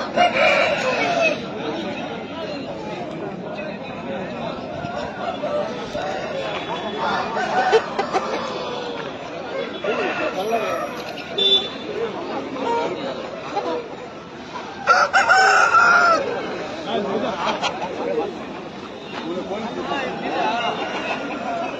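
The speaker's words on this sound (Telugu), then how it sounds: "ముదురు పుంజు." Roosters crow intermittently amid ongoing conversation and background chatter at a Sunday market in Pileru, with clucking birds close by.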